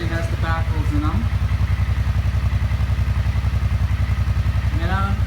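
A 2011 Suzuki C50T Boulevard motorcycle idles through its stock baffled exhaust with an even, rapid low thumping pulse, close and steady, while someone talks over it.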